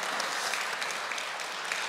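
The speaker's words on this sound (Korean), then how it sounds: "서로 함께 큰 박수로 환영의 박수 해주시면 감사하겠습니다" A welcoming round of applause from the audience at a Korean peace summit victory rally, with steady dense clapping that washes evenly throughout, moderately distant and fairly quiet.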